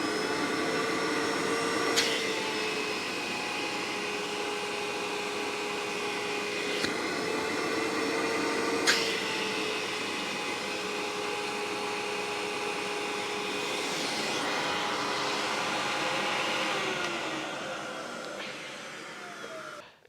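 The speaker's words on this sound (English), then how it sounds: "this Amway ClearTrak got 20 inches of working vacuum" An Amway ClearTrak vacuum cleaner runs continuously with a loud, steady whine and a few sharp clicks along the way, its pitch shifting slightly near the end.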